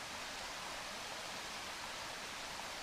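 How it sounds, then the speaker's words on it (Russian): Boiling water from a cup poured into a ziplock food pouch outdoors in a forest, a steady broadband splashing rush lasting a few seconds, close and continuous with no talk. "И мы ее выливаем в пакет."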